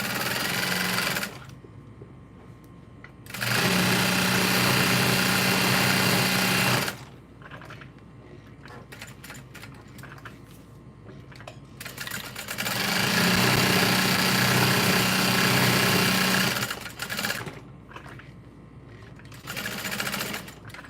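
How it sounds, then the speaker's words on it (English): A sewing machine stitches down a bucket bag strap at a long stitch length, steady loud whirring runs with short pauses between them as the seam goes down one side and back up the other. "Sew down one side, back up the other."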